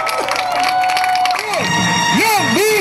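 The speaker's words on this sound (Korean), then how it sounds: "여러분 다시 한번 큰 박수 주시기 바랍니다" A crowd at an outdoor political campaign rally cheers, claps and shouts loudly and close by, with excited voices rising and falling in pitch over the clapping.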